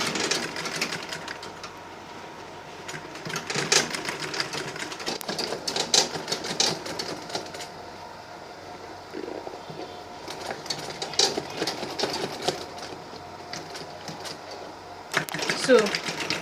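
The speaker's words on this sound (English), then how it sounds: "So now it's time to sew the bottom piece to the body of the bag." Sewing machine stitching the bottom piece of an Ankara handbag to its body, bursts of rapid mechanical whirring that start and stop repeatedly over a low background.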